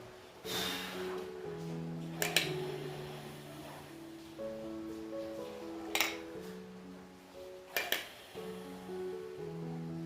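A person breathing out slowly during a post-COVID lung exercise, with a few soft drawn-out breaths and several short sharp puffs, close and quiet over a faint background hum and tones.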